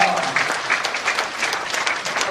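Audience applause at a church leaders' rally in a hotel hall, a steady burst of many hands clapping for a couple of seconds, loud and close, with a voice faintly over it.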